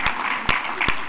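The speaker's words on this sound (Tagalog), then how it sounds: "Palakpak kayo" Applause rises from an audience at the opening ceremony of a national ICT summit, a brief steady patter of many hands with a few sharper claps standing out.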